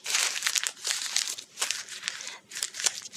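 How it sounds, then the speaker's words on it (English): Paper crumpled into balls by students in a classroom, a close, steady crinkling and crackling that rises and falls in busy waves with brief pauses. "have the students stand up with the probe in their hand and crumple it into a"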